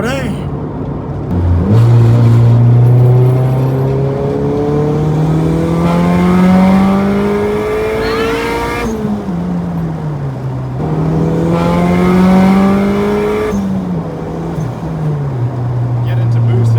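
A turbocharged Honda Civic accelerates hard through the gears, its engine note climbing loudly in long pulls with sharp drops at each shift, close and dominant, while occupants talk and exclaim over it.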